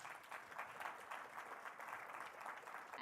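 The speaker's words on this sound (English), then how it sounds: "You guys might give him a round of applause" Audience applause at a Microsoft Dynamics 365 for Sales product demo event, a steady sustained wash of many hands clapping, fairly faint and distant, with no talk over it.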